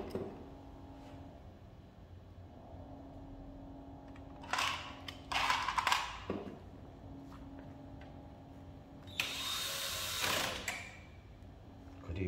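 Screws are driven into the power supply of a Fuji Xerox DocuCentre IV C2265 copier, with a low background hum and a few bursts of close ratcheting and scraping handling noise, each a second or so long.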